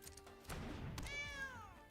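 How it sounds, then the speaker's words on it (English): A house cat gives a single drawn-out meow that falls in pitch, heard close but quiet after a couple of soft thumps. "Meow."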